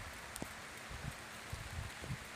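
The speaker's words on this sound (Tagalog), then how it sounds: "Oh, lakas ng ulan" Heavy rain pours over a cornfield in a steady, hissing wash, faint and continuous, with a few soft thuds of drops in the foreground and no talking.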